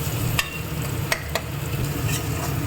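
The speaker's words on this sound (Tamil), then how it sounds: "எல்லாம் சேர்ந்து பச்சை வாசம் போக வதங்கிவிட்டோம்" Crushed ginger and garlic sautéing in a pan, a continuous low hiss and sizzle with a few faint clicks from a spoon, close and even, with no talking.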